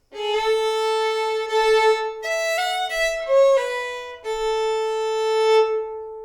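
A solo fiddle plays a short old-time melodic phrase from Sourwood Mountain, sustained bowed notes with a few quick changes in pitch, clear and close.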